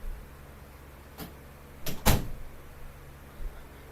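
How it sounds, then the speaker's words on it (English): Closet door in a quiet bedroom swung shut, heard as a soft bump and then a sharper close, a single brief action with faint room hiss around it and no talking. "I forgot to shut my closet door. Let's go ahead and do that."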